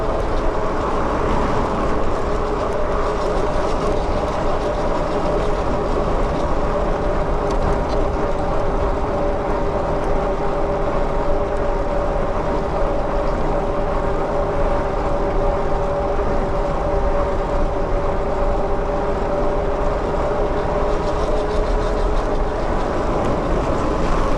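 Constant droning motor whine with rushing wind and road noise, loud and unbroken throughout, from a freshly greased BBSHD mid-drive electric bike motor and chain on a folding bike ridden steadily.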